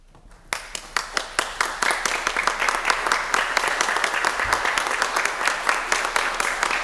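Audience at a City of Pittsburgh Bureau of EMS promotion ceremony claps steadily after a brief quiet start, sharp individual hand claps standing out in a loud, sustained round that carries on to the end.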